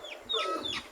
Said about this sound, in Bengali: এখানে 5টা মুরগি আর একটা মোরগ আছে